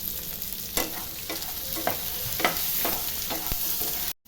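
Coconut and tamarind for chutney being fried and stirred in a pan, with steady close sizzling and a series of spoon scrapes at irregular intervals before an abrupt cutoff.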